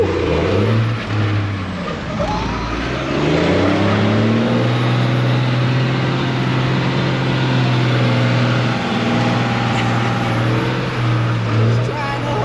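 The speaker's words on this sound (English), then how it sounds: "Gotta rev it up and dump it." A dually pickup truck engine holds a loud, sustained high rev on a rainy day while doing doughnuts, droning steadily close by with people talking over it.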